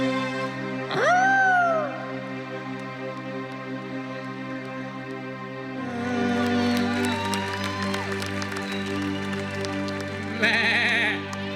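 A goat bleats loudly once near the start, then later gives a quieter wavering bleat, over a steady musical backdrop with a brief jingly flourish at the end.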